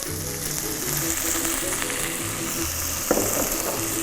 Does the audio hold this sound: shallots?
yes